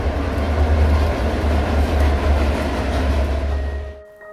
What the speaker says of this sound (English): Unless you're there when the train travels through.